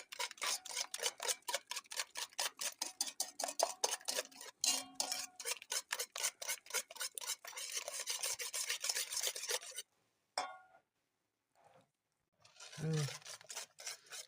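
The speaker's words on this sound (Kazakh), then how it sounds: "Жақсылап араластырып алайын." A spoon or whisk works through dough made of eggs, sugar, salt and yeast in a bowl. A fast run of loud, rhythmic scraping strokes stops suddenly, and brief clinks and a short voice follow.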